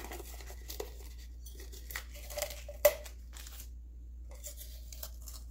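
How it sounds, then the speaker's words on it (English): Tape peeled off a resin-coated teapot, a few short tearing and crinkling rips up close in an otherwise quiet room over a faint low hum. "Now I'm going to take the tape off and see how it looks."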